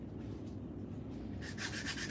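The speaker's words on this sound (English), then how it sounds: "I'm still probably going to sand it just a little bit more." Sandpaper scrubs a wooden wedge for an axe handle, starting as a low, muffled rubbing and turning into louder, brisk scratchy strokes in the final half-second over a steady low hum.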